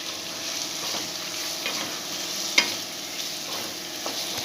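Onion and green chilli fry over full flame in a continuous close sizzle, with soft stirring scrapes and one sharp clatter midway; no talking.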